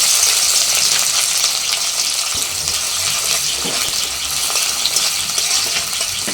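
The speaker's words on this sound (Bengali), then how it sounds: "পেঁয়াজটাকে আমি লাল লাল করে ভেজে নেব।" Chopped onions frying in mustard oil with three bay leaves, a loud, dense, steady sizzle with occasional faint stirring clicks, close up and with no voices.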